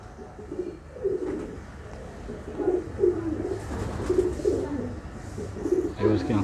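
A breeder pair of pigeons coos in soft repeated rolling phrases, fairly close, over a low background hum with faint stray noises.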